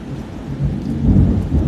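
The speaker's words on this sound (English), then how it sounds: "And I hope you're enjoying the rain sounds." Steady heavy rain pelts a window close by, a dense low rumbling wash that swells slightly louder toward the end, with no voices.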